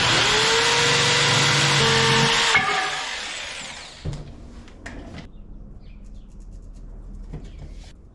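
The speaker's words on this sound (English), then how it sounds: "I'm gonna use a jigsaw, and it's not gonna be a problem" A jigsaw cuts cabinet pieces for a camper van kitchenette, giving a loud, steady buzzing whine for about two and a half seconds. It then stops and is followed by light clatter and handling of the cut wood.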